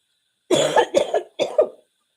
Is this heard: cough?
yes